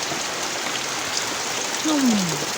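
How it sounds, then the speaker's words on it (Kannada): Rain falling in a home backyard, a steady hiss of water that continues throughout, with one brief tonal sound near the end. "ಮಳೆ ಬರ್ತಾ ಇರ್ಬೇಕಾದ್ರೆ ಹಿತ್ಲ ಕಡೆ ವಾತಾವರಣ ಹೆಂಗಿರ್ತತೆ"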